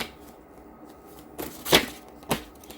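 A deck of tarot cards is shuffled in a quiet room, giving a few soft riffling bursts followed by sharper snaps as the cards fall together.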